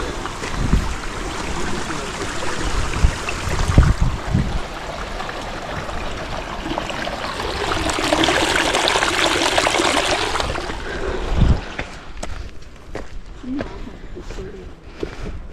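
River water rushes and trickles steadily along a trail in Linville Gorge. The constant broadband wash is close and fairly loud, with footsteps and a few faint bird calls over it.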